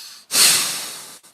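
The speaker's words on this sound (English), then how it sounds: "we're going to go in and out through the nose for our first breath" Two forceful nasal breaths: a long, loud rush of air through the nose, followed by the start of another sharp intake, close and without any talking.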